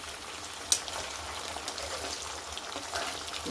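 Food fries submerged in oil with a soft, continuous bubbling sizzle at moderate distance, one small sharp tick near the start.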